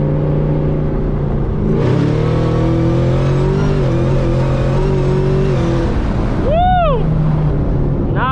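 A modded Camaro ZL1 accelerating hard on a bumpy road, its loud engine climbing through rising revs, then dropping on a sharp upshift and pulling again, with wind roar and some intermittent chirps over it.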